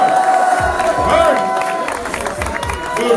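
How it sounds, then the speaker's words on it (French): A crowd cheers and applauds as a dancer called N'Joy enters at a TakeOver V dance battle. The noisy roar and clapping go on throughout, with voices mixed into the din. "On peut encore applaudir Monsieur Enjoy, s'il vous plaît."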